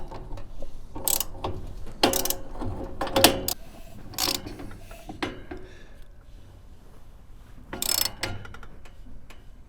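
An engine turned over by hand toward top dead center, heard as close, loud bursts of ratcheting clicks and mechanical rattling in uneven spurts separated by quieter pauses, with no talking.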